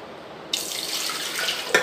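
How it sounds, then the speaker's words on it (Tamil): Water pours into a cup for making homemade butter and ghee, starting abruptly after a short silence as a steady, close splashing stream with a brief louder splash near the end; no voices. "பாருங்கள், இந்த 1 கப் அளவு தண்ணி ஊற்றிக்கோங்க."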